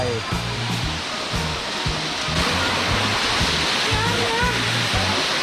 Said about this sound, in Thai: เราได้ยินเสียงน้ำตกแล้วนะครับ